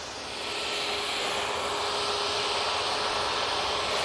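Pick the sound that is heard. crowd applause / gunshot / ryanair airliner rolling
ryanair airliner rolling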